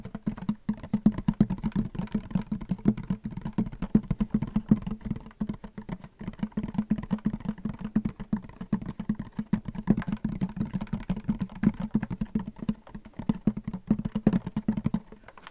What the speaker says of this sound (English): I also like this kind of like back tapping noise.